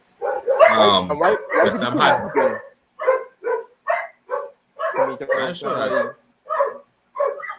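A pet dog barks repeatedly in short, loud yips and woofs close to the microphone, mixed in with someone talking.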